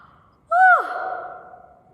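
A single voiced yawn: a high, clear tone that swoops downward and trails off into a breathy, fading hum, close and fairly loud.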